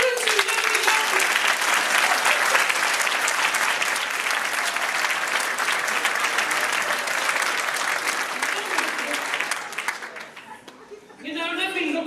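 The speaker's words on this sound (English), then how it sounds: "So would you give them a clap again, Terence?" Sustained audience applause at a farewell party, loud and dense clapping from a full room, with chatter and laughter mixed in, fading briefly near the end before rising again.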